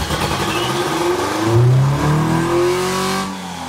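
A Porsche 914 engine revs up and down loudly and close, its pitch climbing and falling in rising sweeps with a rough, throaty rumble.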